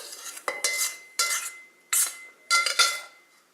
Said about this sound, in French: je vais plutôt prendre une fourchette parce que le fouet, tout se coince dedans